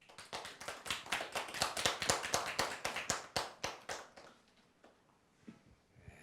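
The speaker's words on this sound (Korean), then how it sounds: "박수로 맞이해 주시기 바랍니다" An audience at a lecture on tea culture applauds to welcome a Buddhist monk to the stage; brisk, dense clapping for about four seconds, then it fades to near quiet.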